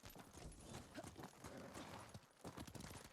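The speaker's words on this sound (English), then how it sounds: "we got a replacement horse for our trusty steed Nobu" A replacement horse's hooves clip-clop at a steady walking pace in Ghost of Tsushima, faint and mixed with a busy ambient game soundscape.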